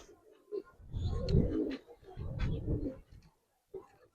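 A hand-held racing homer pigeon of an old tournament line gives soft, low throaty coos in two close bursts in a loft, with quiet talk nearby.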